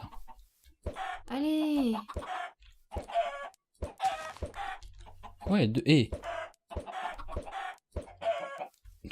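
Minecraft chickens cluck and squawk in bursts, with a rooster-like crow among them, while a person speaks briefly in French between the calls.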